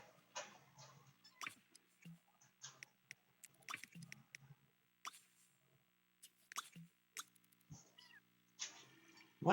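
A house cat meows several times in short, separate calls amid small knocks and ticks in a quiet indoor room, with no voices.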